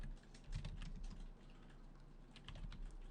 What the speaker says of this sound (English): whom are listening to me typing this message